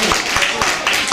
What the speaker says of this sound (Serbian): Jedan aplauz